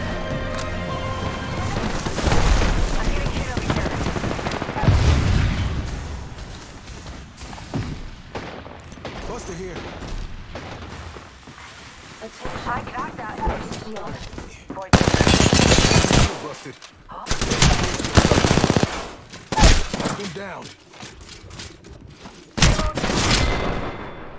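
Gunfire in Apex Legends, with bursts of rapid automatic fire and heavy impacts that come and go, loud and close, in short clusters separated by quieter stretches of movement and game sounds.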